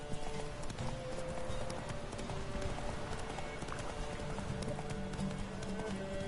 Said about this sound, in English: this horse is way better than Roach